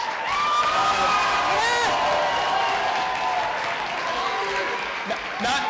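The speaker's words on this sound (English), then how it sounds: "let's give a round of applause" A school crowd at a faculty dance show applauds and cheers, dense clapping mixed with whoops and shouts, while voices sound over the noise at moments.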